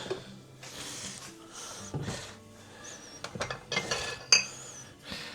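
A deep frying pan is handled in a home kitchen, giving a string of close metallic clinks, knocks and scrapes in irregular bursts, with one sharper clang near the end and no talking.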